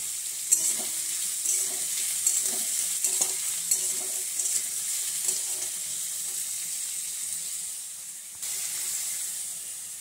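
Small fish cook in a pan with added salt, giving a steady, close frying hiss with soft, repeated clinks and scrapes as a spatula stirs them. No one talks.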